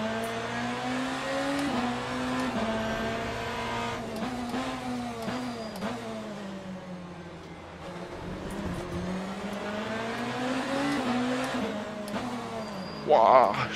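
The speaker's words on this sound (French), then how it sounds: "On accélère progressivement." Race car engine in Le Mans Ultimate, a racing video game, held at a steady drone that rises and falls gradually as it accelerates, continuous throughout with a brief louder burst near the end.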